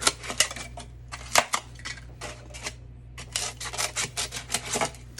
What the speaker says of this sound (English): I'm gonna cut this lip off here.